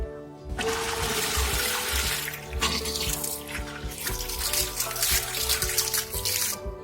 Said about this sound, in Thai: ก็หย่อนปั๊มน้ำลงไปเลย